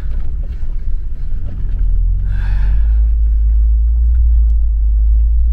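Car driving along a rural road in the Chechen countryside, a steady low engine and road rumble holding throughout, rising slightly louder midway and continuing evenly with no voices.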